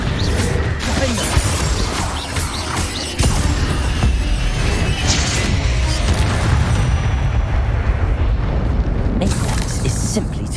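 Explosive Confringo spell blasts from the game Hogwarts Legacy boom and crash in a loud, continuous, dense stretch of rumbling impacts and debris.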